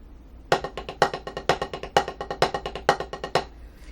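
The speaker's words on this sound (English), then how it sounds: "played with 16th note paradiddles" A snare drum plays 16th-note paradiddles, a steady run of sharp, close strokes with regular accented hits grouping the sticking, stopping cleanly before the final beat.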